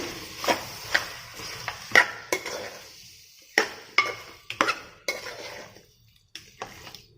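Spoon scraping and knocking against a pan while country chicken curry with ground masala paste is stirred, a run of irregular close clinks and scrapes with short pauses between them.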